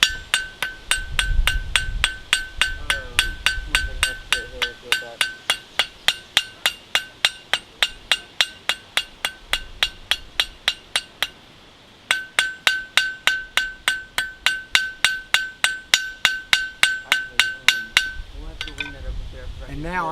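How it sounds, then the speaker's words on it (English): A texturing hammer rings against hot steel in a long steady series of sharp, bright strikes, pausing briefly once before resuming at the same even rhythm. "And then I'll take my texturing hammer."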